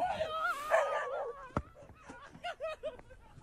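A dog in a meme clip barks and yips in short sharp bursts, several quick barks in a row after whiny, excited vocal sounds, loud and close.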